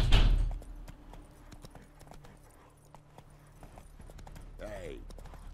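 Horse hooves clip-clop at a steady rhythm while riding in The Witcher 3, with a loud sound at the start and game noises around the hoofbeats.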